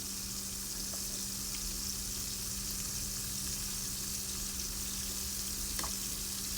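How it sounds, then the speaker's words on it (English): Marinated jerk shrimp frying in a pan, a steady close sizzle throughout with faint pops and crackles. "So we're going to fry our little shrimp right there."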